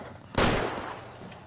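A single loud gunshot in the video game LA Noire, a sharp crack with a short, rolling tail that fades over about a second.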